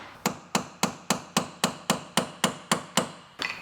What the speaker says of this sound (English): So you're actually hammering that at a different spot?